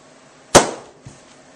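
A rubber balloon held to a flame bursts with one sharp, loud pop, followed by a brief fading tail and a faint knock afterward.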